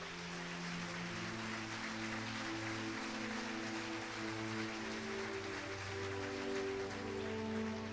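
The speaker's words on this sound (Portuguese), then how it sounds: "Desocupem as vossas mãos e aplaudam o Rei da Glória." A church congregation claps together during a Sunday morning service, a dense, steady wash of applause lasting throughout with musical tones sustained underneath.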